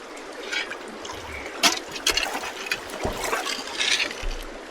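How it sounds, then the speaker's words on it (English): Creek water splashing and trickling around a gold prospector in waders, a steady close wash of water with several brief louder splashes. "Splash water in my face"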